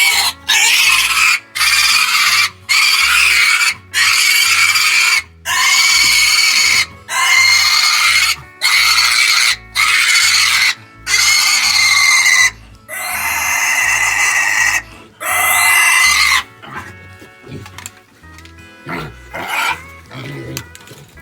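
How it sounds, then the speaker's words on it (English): Pigs on a West Virginia farm squeal loudly and persistently as they are grabbed and held for injections, the shrill cries coming in close, repeated bursts before fading into quieter sounds near the end. "We're not hurting these pigs. It's just nature that they squeal"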